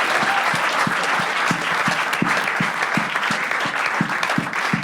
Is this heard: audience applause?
yes